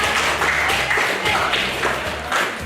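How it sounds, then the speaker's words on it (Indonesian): A classroom gives a presenting student group a short round of applause, dense clapping from a small group that holds fairly loud and steady for a couple of seconds. "beri aplaus buat kelompok"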